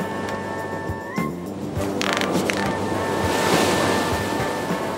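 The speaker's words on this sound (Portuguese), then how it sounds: "o vento está a mudar, é uma tempestade" Storm wind roars over ocean waves at sea, a loud continuous wash of surf and gusting air with breaking swells, no voices.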